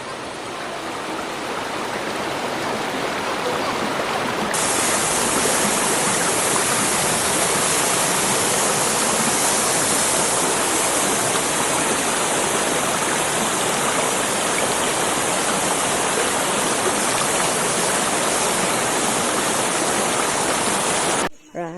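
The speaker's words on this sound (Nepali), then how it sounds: "अब हामी झर्ना पुग्न लाग्यौँ।" A waterfall roars as a loud, dense, unbroken rush of falling water, close by and continuous throughout with no talk over it.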